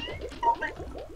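A house cat meows softly nearby in a couple of short, rising calls over faint background sound, with no talk.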